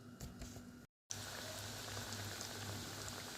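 Dough rings frying in hot oil, a steady dense crackling sizzle with a brief silent gap near the start, continuing evenly afterward at close range.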